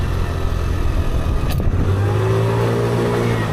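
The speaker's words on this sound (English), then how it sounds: "I got a bunch of stupid cars. I'm just gonna whiz right by them." Cars passing close while riding through traffic on Montjuïc, with steady road roar and engine drone, one passing vehicle and a rising engine tone sweeping by loudly near the end.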